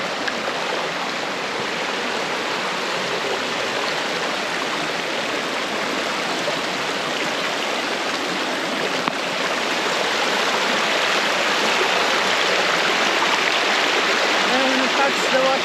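Brandywine Falls in Cuyahoga Valley National Park: a waterfall and stream rush in a steady, loud, broadband wash of flowing water that holds evenly throughout, with faint speech-like traces beneath.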